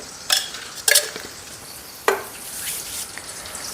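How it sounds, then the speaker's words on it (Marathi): Rice being roasted in ghee in a kadhai, with a few sharp spoon scrapes and stirs over a soft, steady background. "तूप घालते आणि तुपावर मग असे हे तांदूळ छानपैकी मस्त भाजून घ्यायचे"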